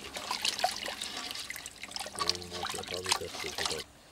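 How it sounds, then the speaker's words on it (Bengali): Raw meat being rinsed clean under running water, a continuous splashing trickle with sloshing, close by, with faint voices in the background. "এখন মাংসগুলোকে সুন্দর করে ধুয়ে নিচ্ছে।"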